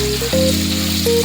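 Pancetta and chopped onion sizzling in a pan as they are sautéed, a steady close frying hiss with a low background hum and a couple of brief tonal whines, no talking.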